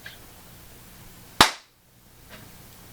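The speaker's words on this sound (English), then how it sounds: "The clap is coming." One sharp, loud hand clap rings out alone in a quiet room, followed by a brief fading echo.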